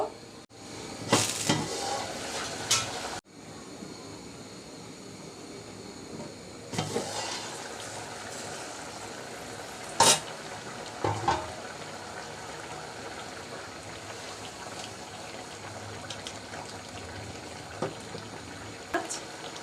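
Small mixed fish cooking in a pan, a steady low sizzle and bubbling with scattered stirring scrapes and clinks, a few sharper utensil knocks standing out, no voices.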